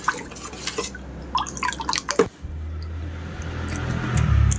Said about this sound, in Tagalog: Lagyan ko lang ng konting apple cider para lasang native kineme siya.